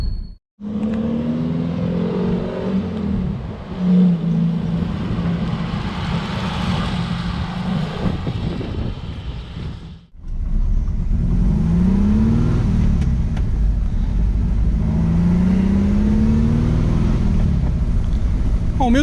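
An Adamo GTL sports car drives and accelerates over hilly roads, its engine droning and revving steadily and loudly, with a brief cut near the middle.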